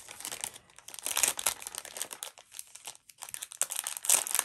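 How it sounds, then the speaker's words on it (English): Close crinkling and tearing as a plastic packet of card-making supplies with envelopes and glitter snowflake stickers is ripped open. The noise comes in bursts over about four seconds, with no voices. "I'm just gonna rip it open."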